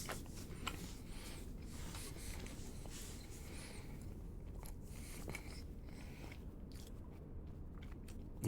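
Someone munching on a slice of bread with cheese, close and quiet, with a steady run of soft crunchy bites and chewing.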